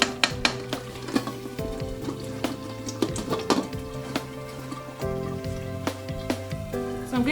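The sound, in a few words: stirring a Nigerian jollof stew base sauce in a pot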